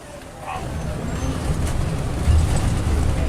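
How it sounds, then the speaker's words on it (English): Road traffic on a street in Bamaga, a steady rumble of passing vehicles with a heavy engine growing slightly louder and nearer toward the end, with no talk over it. "Typical street scene, Bamaga."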